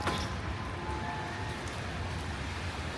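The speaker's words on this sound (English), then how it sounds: "and it's raining right now." Steady rain falls on a street in Moscow, a dense, even hiss of drops with faint traffic rumble underneath, continuous and close around the listener.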